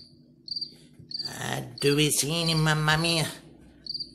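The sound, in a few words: cricket chirping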